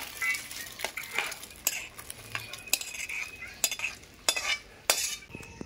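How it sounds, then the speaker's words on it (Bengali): Thick pea ghugni is scraped and tipped from a wok into a bowl: a close run of metal utensil scrapes and sharp clinks against the pan, moderately loud, with no talking. "এই গামলার মধ্যে ঢেলে নেব।"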